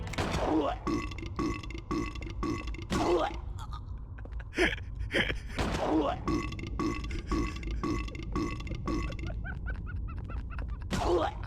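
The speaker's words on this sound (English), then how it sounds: "every time you hit them, they either fart or burp." Enemies in a Silent Hill video game burp or fart each time they are hit, a rapid series of short comic eruptions in quick rhythm, fairly loud, with no talk over them.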